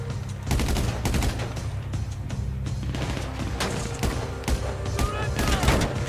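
Rapid gunfire in the video game GTA V Online crackles in dense bursts and scattered single shots, loud and sustained over an ongoing low in-game rumble.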